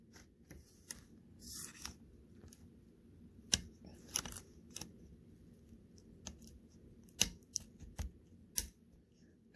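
Small screwdriver prying up the black cable clip inside a Dell Inspiron 13 laptop during a screen lid repair, giving several sharp, close, quiet clicks and snaps scattered over light handling noise.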